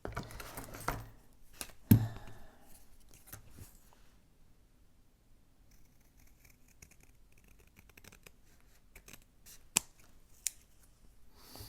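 Scissors cutting through glued paper, close and quiet, with a few crisp snips and rustles separated by long near-silent gaps and no talking.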